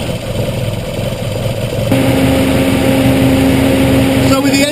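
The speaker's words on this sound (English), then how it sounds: "it's important that the engine is idling at about 800-900 RPM throughout this process" Car engine idling at a steady 800-900 RPM, a loud continuous rumble with a constant hum that holds even as a tone shifts partway through, heard over talk.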